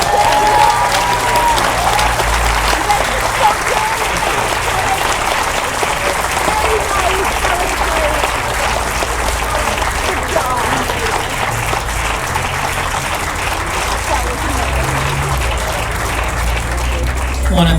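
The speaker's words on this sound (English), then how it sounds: "Another round of applause for them, please." An audience claps steadily and loudly for the Valley Christian Madrigals at an outdoor Veterans Day ceremony, sustained applause filling the whole stretch with a faint voice at the start.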